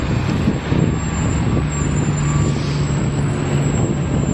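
A company truck rolls past on a Montreal street in the Ville-Marie area, a steady loud engine rumble and road noise with a high whine, close by and without talk.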